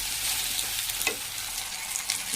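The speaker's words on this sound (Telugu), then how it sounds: "కొద్దిగా నూనెలో వేసి ఆ తర్వాత టమాటాలు వేసి వేయించాలి." Tomatoes frying in a little oil for okra (bendakaya) curry, a steady soft sizzle with faint stirring scrapes, close and continuous, no voices.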